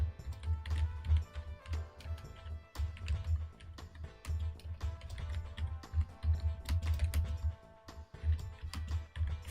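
Computer keyboard typing in a home setup, with irregular clicky keystrokes near the listener over a low steady hum, and no talking.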